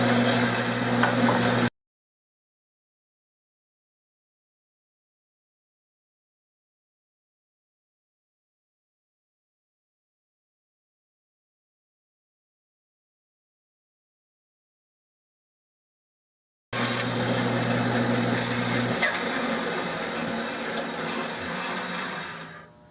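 A bandsaw cuts a wooden blank for a custom Remington 788 rifle stock, its loud, steady motor whine heard in a short burst, then a long silent gap, then a longer run of buzzing close by with no talking.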